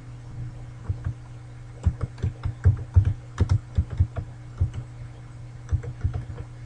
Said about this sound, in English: Just by typing in.